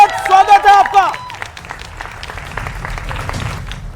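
Audience applause welcoming guests on a televised BJP vs Congress political debate show, a broad wash of clapping from a studio crowd rising under a presenter's voice and then continuing on its own.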